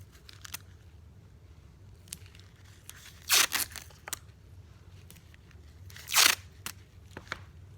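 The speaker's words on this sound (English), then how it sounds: "you just crunch it up into a ball" Newspaper being crunched into a ball for a piñata frame, two loud crinkling bursts standing out close up over a quiet background, with small rustles and taps between them.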